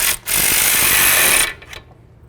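Power tool tightening a bracket bolt on the front suspension of a 2008-16 Chrysler Town & Country, a loud continuous whir lasting about a second and a quarter, then stopping with faint clicks after.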